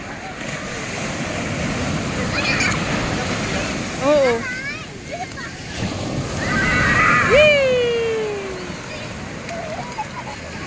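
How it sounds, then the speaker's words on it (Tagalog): Powerful surf rolls in at Tiwitiwi Beach, Legazpi, Albay, a steady roar that swells louder midway, with wind noise and excited voices calling out over the crashing water. "Lakas ng alon talaga."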